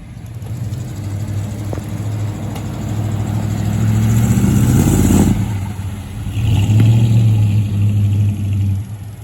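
A car engine with a carburetor in need of tuning idles and revs up repeatedly, a rough steady drone swelling into louder revving bursts around the middle and again near the end, close by with no talk.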